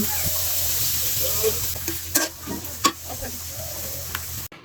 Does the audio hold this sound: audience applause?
no